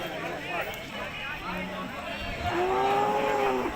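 Buffaloes low with long, drawn-out moos at a weekly cattle and buffalo market, one rising call near the end louder than the rest, amid the murmur of the crowd.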